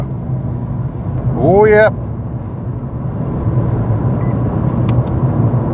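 Dacia Spring electric car with 64 brake horsepower accelerating hard on a rural country road in Wales, a steady cabin hum of road and motor noise throughout, with a short excited exclamation from inside near the start.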